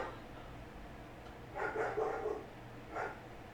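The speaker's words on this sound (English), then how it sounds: "can you hear the dogs?" Dogs bark faintly in the distance, a short cluster of barks followed by one more after a pause, over quiet room noise.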